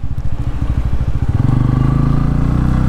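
A 2023 Bajaj Pulsar N160 E20 motorcycle accelerating on the road, the engine's pulsing thrum rising and smoothing into a steady, loud drone as revs climb.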